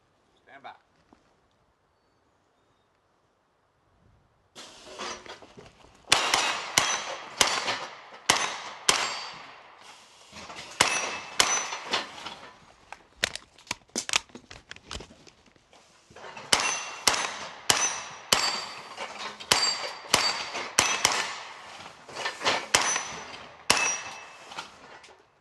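After a quiet start, rapid gunshots ring out during a shooting skills drill, with sharp metallic clangs of rounds striking steel targets, coming in quick bursts with brief pauses.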